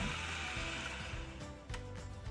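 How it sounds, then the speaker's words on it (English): A food processor whirs as it finely chops onions, a steady motor drone with brief dips and surges as the blades work, close and fairly quiet. "I'm going to use the food processor because I have horrible chopping skills, and it just makes it a lot easier."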